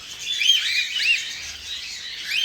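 A yellow bird chick chirps in quick, high, repeated tweets, fairly close and steady, with no talking.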